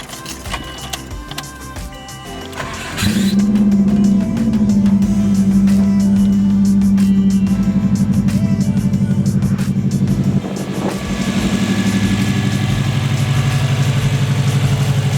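A Subaru car engine, freshly swapped, cranks and catches, then settles into a steady, fairly loud idle that keeps running, with clicks and rattles around it.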